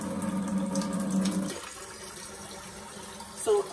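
Water runs from a Brita faucet-mounted filter into a pitcher, a steady close splashing stream that stops abruptly halfway, followed by quiet and a short squeak near the end.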